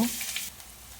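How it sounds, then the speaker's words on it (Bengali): Whole cumin seeds frying in hot oil give a brief, close hiss that is louder at first and then settles into a quieter, steady sizzle. "তেল গরম করে নেওয়ার পর এখানে আমি আস্ত জিরা নিয়েছি"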